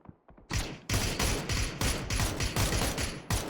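Rapid bursts of automatic gunfire in the PUBG battle royale video game, loud and close, firing in a steady rhythm of repeated volleys with brief gaps between them.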